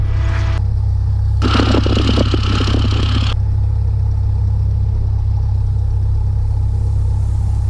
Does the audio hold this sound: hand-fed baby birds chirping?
no